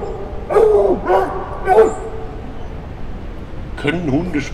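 Dogs in the horror video game There's Something in the Ice give a few short yelping barks with whining, whimpery tails, then pause before a final wavering whine, set against a steady low background hum.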